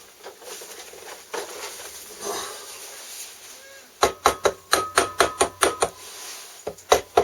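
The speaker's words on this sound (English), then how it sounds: "Tapping with a rubber hammer." Sharp rhythmic taps from a rubber hammer strike at a steady pace, close and punchy, after a quieter stretch of lighter handling noises, while fitting a cylinder head before the head bolts go in.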